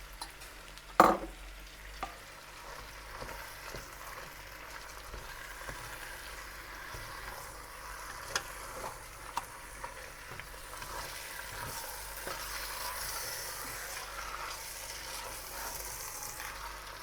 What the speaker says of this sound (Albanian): Të skuqet bashkë me mishin qepa.